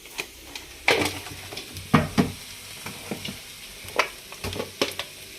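Spices being stirred into egg fried rice in a hot pan give a steady sizzle broken by repeated scraping and clanking spatula strokes against the pan, close and fairly loud.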